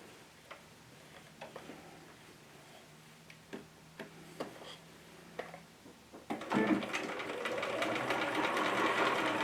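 A sewing machine sews a seam, starting with a few soft ticks and clicks and then settling into a steady, close mechanical stitching run.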